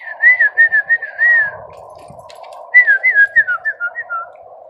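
Birds calling from above a house roof outdoors, two bright descending whistled runs of about eight notes each, separated by a short pause, over a steady lower cooing or droning tone, fairly close and clear.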